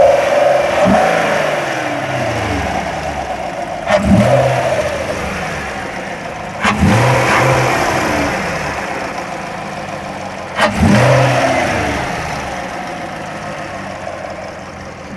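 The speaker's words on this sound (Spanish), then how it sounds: "Ahí está el Camaro y así es como suena." A 2019 Chevrolet Camaro engine idling close by, blipped into four short revs spaced a few seconds apart, each rising then settling back to a steady rumble.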